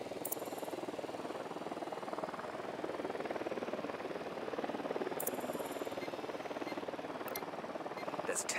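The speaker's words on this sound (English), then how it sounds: "The drone is up." A drone hums steadily in a tactical shooter video game, a continuous droning buzz filling the background from start to finish while a few short electronic tones sound over it.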